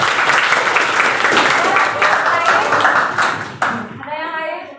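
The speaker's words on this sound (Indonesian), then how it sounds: "Oke, tepuk tangan." A classroom breaks into applause, dense clapping from many hands for about three and a half seconds before it cuts off, followed by a teacher's voice speaking.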